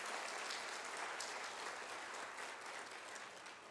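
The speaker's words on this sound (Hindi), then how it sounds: "तो एक शानदार सम्मान के रूप में इन्हें मैं चाहूँगी एक जोरदार तालियों के साथ में आप उनका सम्मान करें" An audience at a motivational conference in India applauds, with dense, sustained clapping from a large crowd that tapers a little toward the end.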